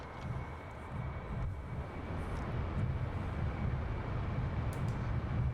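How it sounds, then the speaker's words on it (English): Jet afterburners lit in the DCS World flight simulator make a loud, steady, broadband roar that holds evenly throughout, with no talking. "All right, let's get the burners on."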